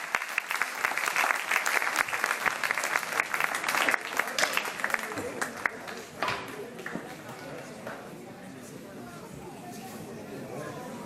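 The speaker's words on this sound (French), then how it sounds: "On peut les applaudir également." Loud audience applause, dense clapping that gradually thins and fades toward the end, with some chatter mixed in.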